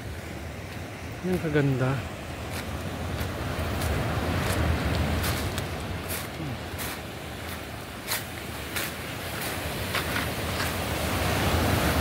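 Strong surf rolling onto Sumadag Beach in Maconacon, Isabela, a steady broadband roar mixed with wind buffeting the microphone, with a voice speaking briefly near the start.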